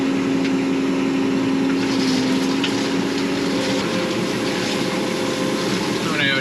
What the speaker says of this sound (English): so we'll get this tractor fired up anyway